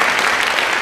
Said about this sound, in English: Clap those who have decorated the stage.